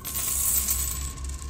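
Coins are poured onto a floor inside an old house, a bright shimmering metallic jingle sustained for a moment at moderate distance, with no one speaking.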